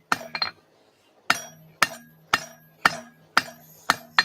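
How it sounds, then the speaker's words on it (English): Nails driven with a 4-pound hammer: a quick double strike, a pause, then six sharp metallic blows at an even rhythm, close and loud. "Now I'm going to move to a 4 pound hammer"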